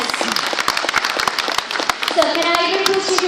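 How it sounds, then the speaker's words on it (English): Audience applause welcoming a managing director onto the dais at a formal event, brisk sharp clapping running throughout with a voice talking over it. "with a huge round of applause on the dais"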